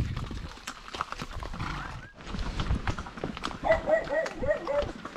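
Horse hooves clip-clop steadily beneath a rider on a roughly 12 km trail ride, with a whinny and voices talking over the hoofbeats.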